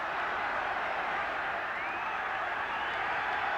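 Roaring football crowd at a Northern Ireland v England match, a dense, steady wall of noise held at constant loudness with a faint whistle rising partway through.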